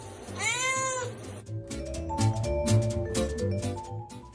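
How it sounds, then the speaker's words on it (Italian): A large black-and-white cat gives a clear, rising-then-falling meow near the start, and a soft melodic tune plays on underneath for the rest. "Un grosso gatto bianco e nero fa capolino."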